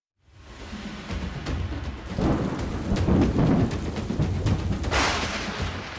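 Heavy monsoon-season rain falls in Gujarat as thunder rumbles. A dense rain roar builds quickly from silence, and deep, loud, rolling thunder swells through the middle with a sharper crack near the end.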